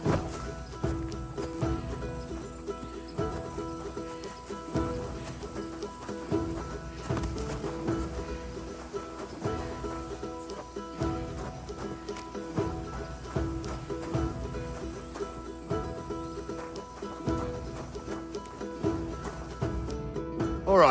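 Horse hooves clip-clop steadily on the ground in Kingdom Come Deliverance 2, a continuous rhythmic walking gait at moderate distance with light ambient birdsong, lasting throughout.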